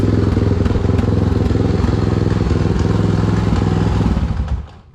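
A motorcycle engine that fired right up without the choke idles loud and close with a steady rapid chugging pulse, then cuts off and fades in the last half second.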